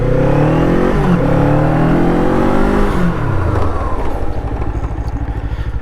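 A Kawasaki Eliminator motorcycle brakes hard with ABS engaged. The engine note falls steadily as it slows, leaving a rough, pulsing low drone, loud and close, with no talk.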